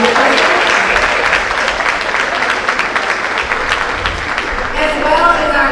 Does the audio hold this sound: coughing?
no